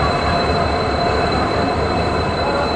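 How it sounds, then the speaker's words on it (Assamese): A train pulls into a railway station, its loud steady rumble of wheels and carriages filling the clip with faint squealing, no voices. "এয়া ট্ৰেইন সোমাই গ'ল"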